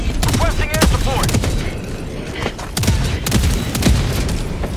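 Heavy sustained gunfire in the co-op shooter Helldivers 2, dense overlapping automatic shots and sharp cracks filling the clip loudly and continuously, with booming impacts mixed in.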